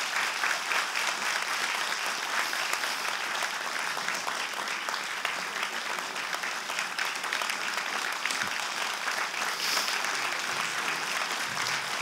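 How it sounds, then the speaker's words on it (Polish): An audience claps in sustained applause at an anniversary concert honoring a Polish WWII resistance figure. The dense clapping holds steady for the whole stretch, with no break or lull. "Wielkie brawa."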